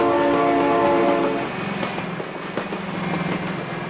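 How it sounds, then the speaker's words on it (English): A train passing in the video game BeamNG.drive: a loud horn blast sounds first, then cuts off and leaves the rumble and clatter of the cars rolling by up close. "Oh my god, train!"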